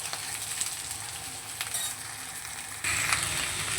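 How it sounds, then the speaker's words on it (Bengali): Mixed vegetables, eggplant and potato among them, are stirred together in a hot pan. A continuous loud sizzle and frying hiss runs throughout, broken by scraping stir noises, and grows a little louder toward the end. "আমি সমস্ত সবজিগুলোকে একসাথেই দিয়ে দিলাম। একসাথেই একটু নেড়ে চেড়ে নেবো"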